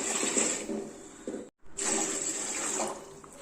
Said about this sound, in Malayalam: ഇനി ഇതിലേക്ക് നമുക്കൊരു മൂന്ന് കപ്പ് വെള്ളവും കൂടി ഒഴിച്ചു കൊടുക്കാം